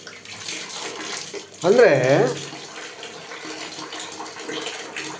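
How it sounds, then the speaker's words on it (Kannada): Water runs steadily from a tap fed by a geyser, a constant rushing flow while someone talks briefly over it. "ಹಾಗೆ ನೀರು ಬಿಟ್ಟು ನೋಡ್ತೇನೆ, ನೀರು ಬ್ಯುಸಿ ಇದೆ."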